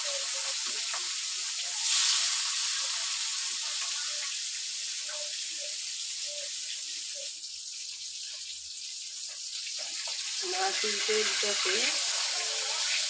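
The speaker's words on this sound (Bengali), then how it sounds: "ভাজার জন্য মাছ দিয়ে দিলাম" Oil sizzles and hisses steadily as tilapia fries in a pan, a bright continuous crackle with a few clinks and soft knocks.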